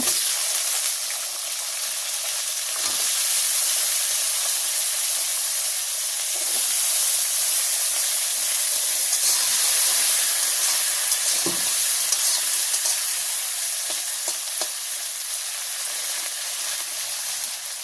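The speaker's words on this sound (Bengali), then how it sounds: "শাকের মধ্যে যে আলু দেবো সেই আলুটা আগে ভেজে নেব। আলু দিয়ে দিচ্ছি।" Potatoes fry in oil in a village kitchen, a loud, continuous hissing sizzle held close for a long stretch, with occasional soft stirring knocks and no voices.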